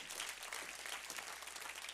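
Steady clapping from a church congregation, a dense continuous wash of applause with no voices standing out.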